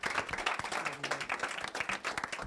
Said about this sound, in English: Big round of applause for Dr. Dave Hogsed.